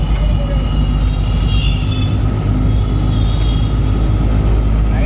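Traffic jam of trucks at a port, a loud, continuous low engine rumble with idling drone and a faint higher whine drifting past, no talking.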